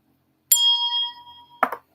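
Notification bell sound effect: a single clear, bright ding with a ringing decay, followed by a short softer clink, alone in silence.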